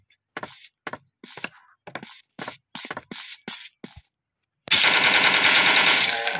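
In the mobile game Deadly Dino Hunter, about a dozen short, sharp gunshots fire in an uneven rhythm, then a sustained loud burst of rapid automatic fire follows after a brief pause.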